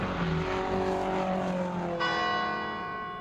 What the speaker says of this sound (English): Boys, can you hear that? It's the death bell.